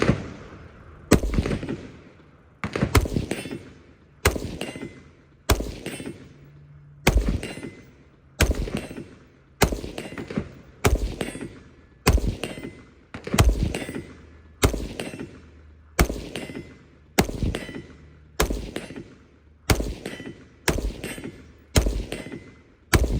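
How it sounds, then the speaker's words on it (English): Outdoor rifle gunshots from an AR-style rifle with a carry handle, about fifteen single loud, sharp cracks at steady intervals of roughly one to one and a half seconds, each trailing into a brief echo. "We're gonna go outside before the sun goes completely down and before they kick me out of here, and shoot a few more rounds with the carry handle."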